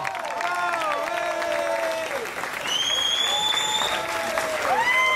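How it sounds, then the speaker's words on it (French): An audience applauds presenters at a Montreal Pride gala in 2012. The loud, continuous clapping runs under sustained, gliding musical tones or vocalizing that rise and fall throughout. "on les applaudit, come on!"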